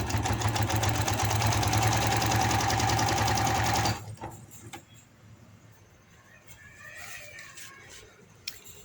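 A sewing machine runs steadily while stitching a finishing line on a seam of palazzo pants, a continuous loud whirring for about four seconds before it stops, leaving faint handling noises.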